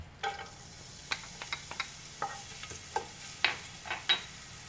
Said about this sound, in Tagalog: Pwede na tayo mag-isa ng bawang.